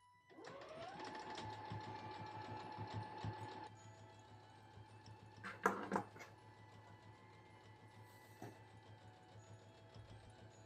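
A sewing machine stitches a Christmas stocking in a quick whirring run for about three seconds, then stops, followed by a few brief clacks and handling noises over a faint steady hum.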